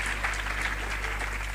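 Brief, steady applause from an audience at a Christian conference, continuous clapping for the worship music group, with a low hum underneath.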